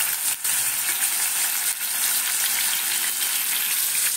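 Prawns fry in hot oil with a steady, loud hiss and sizzle that runs unbroken throughout, close up and alone, with a couple of brief dips near the start.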